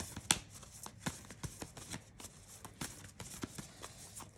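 Tarot cards being shuffled in a close, crisp, rapid riffling burst of papery flutters and taps, alone with no talking.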